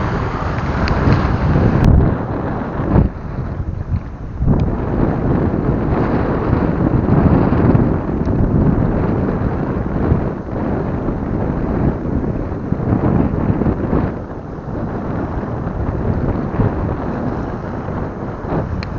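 Strong wind buffets the microphone in continuous gusts, with the rushing wash of sea waves beneath, loud and unbroken, on a Philippine shore while shore casting.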